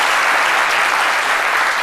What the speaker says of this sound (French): des applaudissements pour cette dame